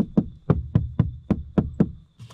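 Seven knuckle knocks rap on the hard plastic rear door panel of a 2020 Peugeot 2008 1.6 automatic, each a hollow, close thud at an even, quick pace, ending in a soft rustle.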